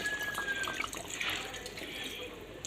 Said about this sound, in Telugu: అందుకే నేను ఒక గ్లాస్ వాటర్ అనేది పోసుకున్నాను